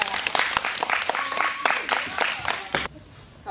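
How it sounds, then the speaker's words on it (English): A group claps for Demaya during a coached practice session: a brisk, fairly close burst of hand claps that cuts off abruptly near the end. "Y'all clap for Demaya."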